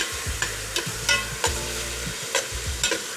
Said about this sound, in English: We're gonna scrape up the bottom.